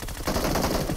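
Rapid automatic fire from an M416 rifle in the mobile game BGMI crackles in a dense, loud burst that runs unbroken for about a second.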